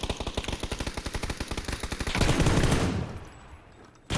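Rapid automatic gunfire in the battle-royale game PUBG, a fast even burst of shots for about two seconds followed by a heavier volley that fades out, fairly close and loud.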